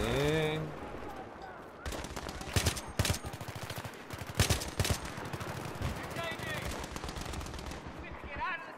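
Battlefield 3 gameplay carries bursts of machine-gun and rifle fire, some shots sharp and close, others rattling in quick strings, layered with game voices and radio chatter throughout.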